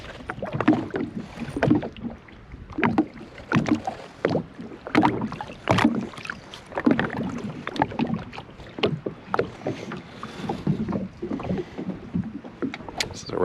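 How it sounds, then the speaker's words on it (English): Paddle strokes on a lake from a canoe or kayak during a Vermont fishing weekend, rhythmic splashing and dripping pulses about every second, close and fairly quiet. "So I'm gonna paddle over there and see if I can't."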